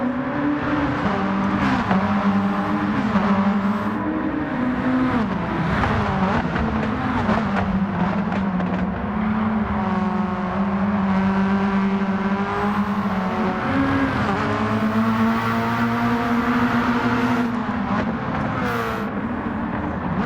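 A race car engine in Gran Turismo 7 drones steadily throughout, its pitch rising and falling with throttle changes through corners, loud and continuous with no talk over it.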